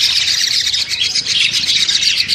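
A local Javan myna, one caged bird, giving a continuous harsh, rapid chattering call, close and loud, with no voices.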